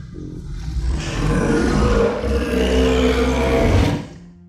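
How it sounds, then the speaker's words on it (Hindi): A creature's long, loud, rumbling roar fills the horror-story sound effect, building quickly and holding steady for about three seconds before cutting off sharply, heard alone and close. "मैं सोया हुआ था कि तभी मुझे किसी की दहाड़ने की आवाज़ सुनाई दी।"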